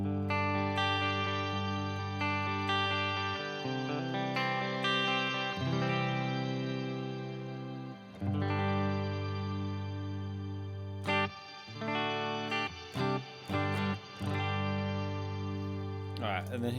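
Electric guitar played through an Octo reverb effect on its own, sustained chords blooming into a dense, shimmering octave-rich wash with long tails, several chord changes and short gaps.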